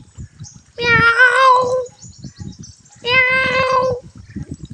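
A human voice imitating a cat, giving two long, drawn-out meows separated by a short pause, close and loud, with faint background clatter between them.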